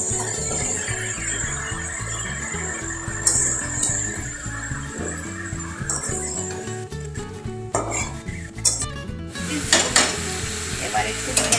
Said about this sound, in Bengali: এবার মিশিয়ে নেব একসাথে